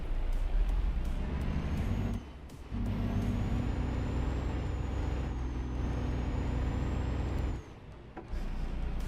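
A vintage truck under restoration runs with a rough, rumbling engine, loud and close, with a steady low drone broken by two short dips in sound, no talk over it.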